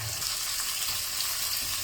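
French beans and vegetables returned to a pot and frying with pork belly and garlic, giving a dense, even hiss of sizzling that holds steady and close without breaks, with no speech over it.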